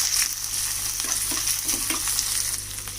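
Mustard seeds, cumin, onion, green chili and curry leaves sizzle in hot oil in a pan, a steady close hiss with a few soft stirring scrapes partway through, no voices.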